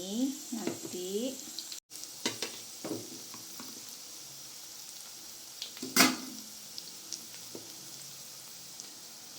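Sliced ingredients sizzle in a hot pan while being stirred, with a steady frying hiss, scattered scraping clatters and one sharp utensil knock against the pan, close and moderately loud, with no talk.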